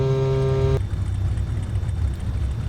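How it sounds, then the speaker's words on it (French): Twin engines of a Cessna 337 idling at night on the ground at Saint-Barthélemy before takeoff. A steady droning hum is cut off by a sharp change early on, then a rough, broadband engine roar continues close to the microphone. "Donc les moteurs sont démarrés"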